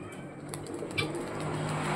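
Pigeons coo softly in the background amid light ambient noise, a brief low murmur.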